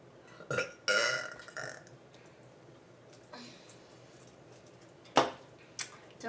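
A person burps in two loud, close bursts near the start, then a few softer gurgles and one more sharp belch later, separated by quiet room tone with faint handling noise.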